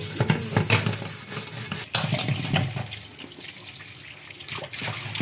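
An old greasy kadai is slowly scrubbed under running tap water, giving continuous close rubbing and splashing with a louder scrape partway through.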